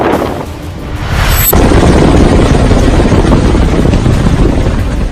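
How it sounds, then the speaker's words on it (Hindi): An Mi-17 helicopter on reconnaissance over the Panjshir valley, its loud, steady rotor and engine roar swelling in after a brief quieter moment and holding close and dense throughout. "MI-17 हेलीकॉप्टर से नॉन स्टॉप रेकी की जा रही है।"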